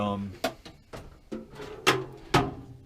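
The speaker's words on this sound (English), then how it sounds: "tons of space there. Empty drawer. More sockets." Tool chest drawers in a home workshop being slid open and shut, a series of sharp clacks and sliding rattles spaced across a few seconds, with someone talking between them.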